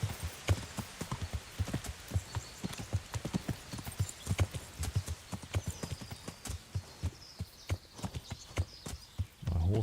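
Horse hooves gallop in Kingdom Come: Deliverance, a rapid, steady clip-clop of close, sharp beats running throughout, with a brief whinny-like rise near the end.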